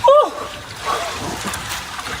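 A person splashing into cold outdoor water, one loud close splash and slosh at the start, followed by softer lapping and movement in the water while a voice exclaims briefly.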